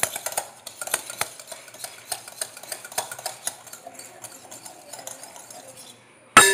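A whisk or spoon scrapes and clinks rhythmically against a bowl, mixing a rava cake batter to break up lumps, with quick, close, repeated strokes and a sharp knock at the end.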